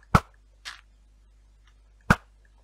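Three sharp shots at nether fortress mobs in Minecraft, a video game: two quick cracks close together, then a third after a pause, each clear against near silence.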